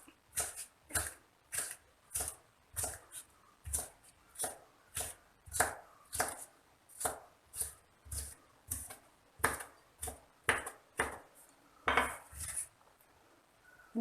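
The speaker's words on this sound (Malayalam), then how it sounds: "അങ്ങനെ ഇതെല്ലാം നമുക്കിങ്ങനെ കട്ട് ചെയ്തെടുക്കാം ഇത് മുഴുവനും ഞാൻ ഇതുപോലെ ഇങ്ങനെ അരിഞ്ഞെടുത്തിട്ടുണ്ട്" A knife chops snake gourd on a cutting board in a home kitchen, about twenty crisp, close knocks in a steady, even rhythm with brief quiet gaps between strokes.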